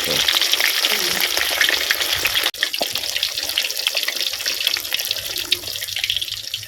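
Fish frying in oil over a wood-fired stove, a loud, steady crackling sizzle running unbroken throughout, with one brief sharp click midway and no talking.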